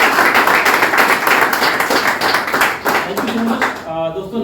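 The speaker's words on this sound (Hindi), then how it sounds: "बिल्कुल तालियां हो जाए फिर एक बार।" An audience claps at a Vestige success speech event, a dense burst of applause that carries through most of the moment before fading near the end as a voice begins.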